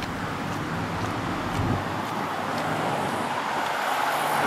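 Steady roar of cars rushing along Route 2, a continuous wash of tire and engine noise from nearby traffic passing in both directions, with wind on the microphone and no talking.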